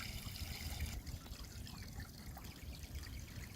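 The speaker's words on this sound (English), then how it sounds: "we're going to get the hose, we're going to hose that down" Garden hose water pours and splashes steadily onto an Aquascape pond skimmer filter mat being rinsed, a soft continuous trickling wash heard close and alone.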